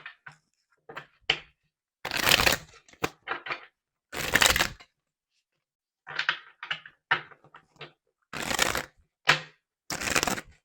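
Tarot-style cards being shuffled for a reading, a series of short crisp riffling and slapping bursts at irregular intervals, close and alone with quiet gaps between.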